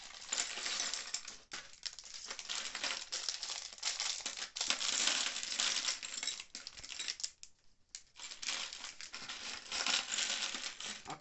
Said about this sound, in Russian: открываем дополнительные пакетики.